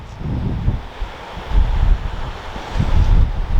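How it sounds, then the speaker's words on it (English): Strong, harsh, bitterly cold wind on the Devon coast buffets the microphone in loud, uneven low rumbling gusts, with no voices. "It's bitterly cold and windy."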